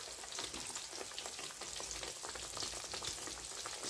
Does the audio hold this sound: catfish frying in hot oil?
yes